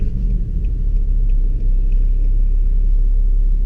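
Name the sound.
tuned BMW 535d car engine pulling away in second gear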